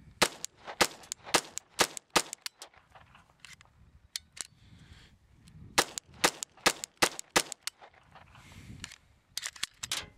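A pistol fires CCI rounds amid repeated light strikes, giving a string of sharp, loud, close cracks at uneven intervals with short gaps and quieter mechanical clicks between shots.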